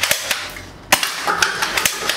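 An AK-47-style air rifle fires BB pellets at a paper cup, about a dozen sharp, snappy cracks in a quick irregular series, loud and close with no talking.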